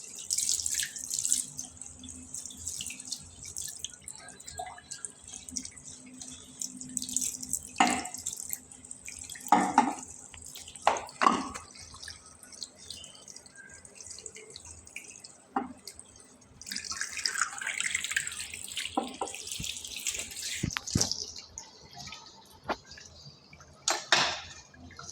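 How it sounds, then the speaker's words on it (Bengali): Money plant cuttings are rinsed under tap water, with intermittent splashing and gushing of running water, occasional drips and soft knocks of handling, fairly close and moderately quiet. "জাস্ট ধুয়ে নেবেন।"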